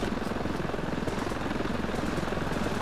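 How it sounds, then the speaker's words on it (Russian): Helicopter flying overhead in the shooter game Ravenfield, a loud, steady rotor chop with a rapid pulsing thump over a broad engine roar that holds constant throughout. "Вертолет летит."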